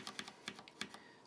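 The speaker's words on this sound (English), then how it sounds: "it's the Quickfire Rapid Pro, and it's got the Cherry MX black switches" Typing on a CM Storm Quickfire Rapid Pro mechanical keyboard with Cherry MX Black switches, a quick run of crisp, close clacking keystrokes at an uneven rhythm, fairly soft in level.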